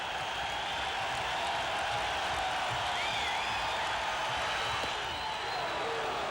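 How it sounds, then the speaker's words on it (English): Baseball crowd at Fenway Park in 1986 yelling for the pitcher during an inning, a steady, dense roar of many voices filling the stadium with no breaks, loud throughout. "The crowd yelling again for him."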